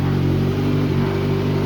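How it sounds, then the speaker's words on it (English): A loud 2019 Kawasaki ZX-6R motorcycle engine running close by, with a steady, throaty low rumble. "I just gave it a couple revs and it sounds so good"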